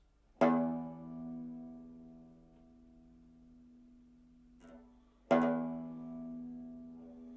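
The low sixth string of a six-string banjo plucked twice, each note ringing out clearly and slowly fading, with a quiet pause between the two plucks.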